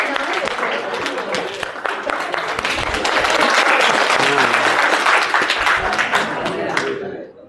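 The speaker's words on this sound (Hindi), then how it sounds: "तालियां बजाओ, तालियां बजाओ।" Audience at a Hindi motivational talk clapping loudly and continuously for about seven seconds, dense applause that fades out quickly at the end.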